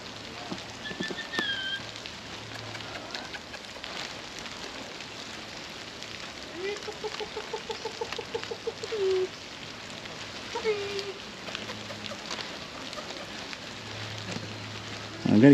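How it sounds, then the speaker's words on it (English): Soft irregular patter of raindrops tapping on a camera lens close by, over a faint steady outdoor hiss at a zoo, with a few distant bird calls. "So we have rain on the camera lens,"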